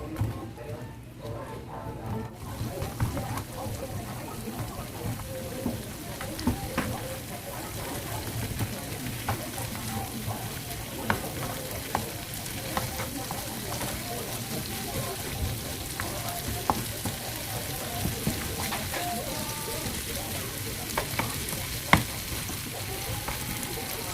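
Fried buffalo chicken wings being tossed in sauce in a pan, with a continuous soft sizzle and repeated light clatters and scrapes of stirring, close and alone.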